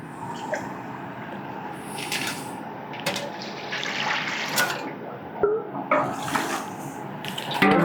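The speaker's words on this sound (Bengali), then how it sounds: "জল দিয়ে দিলাম" Water poured into a cooking pot while making a curry-style dish of jackfruit, a steady splashing, running stream of moderate loudness with small clinks and stirring noises, with no talking.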